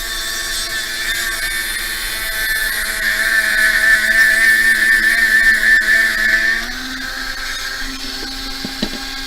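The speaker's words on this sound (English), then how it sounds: "Okay, now back to sanding." A sanding disc grinding steadily during a freeform beading craft project, a loud continuous whine that swells in the middle, then drops in pitch and winds down near the end.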